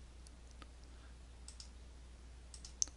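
Computer mouse clicks while working in AutoCAD: a handful of faint, sharp, isolated clicks spaced irregularly over a quiet background hum, with one louder click near the end.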